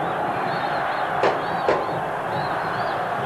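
Football crowd roaring at a 1977 Brazil Cup final between Atlético Mineiro and São Paulo, a dense, sustained stadium roar that swells and holds, with a couple of sharp shouts or whistles cutting through.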